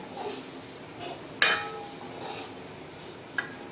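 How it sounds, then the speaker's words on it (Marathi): A lid set onto a pan of egg curry on a low flame, one sharp metallic clank followed by a fainter tap, heard alone over a low background hiss. "आता त्याच्यावरती झाकण मारते परत 5 मिनिटासाठी."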